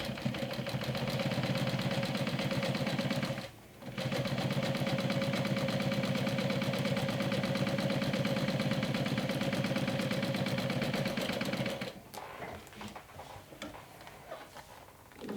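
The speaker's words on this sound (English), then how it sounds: "top stitch along the curved edge with 1/8 of an inch seam allowance" A sewing machine runs steadily, top stitching along the curved edge of a glow-in-the-dark backpack lining. A close, even hum with a rapid needle tick continues for most of the clip, broken by one short pause, then stops and leaves quieter handling sounds.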